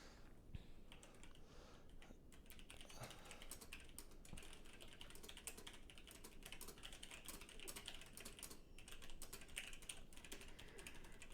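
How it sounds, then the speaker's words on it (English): Steady rapid typing on a computer keyboard fills the whole stretch, close and continuous with dense clicking keystrokes and no talking. "Wait, typing."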